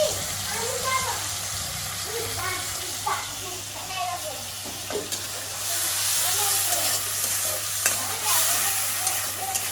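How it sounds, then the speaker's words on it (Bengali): Spice paste frying in a pan with onions already browned, for a green jackfruit curry cooked mutton style; steady sizzling hiss with scraping stir strokes throughout, close and fairly loud, with a low hum underneath. "ভালোভাবে কিন্তু মশলাটা ভেজে নিতে হবে"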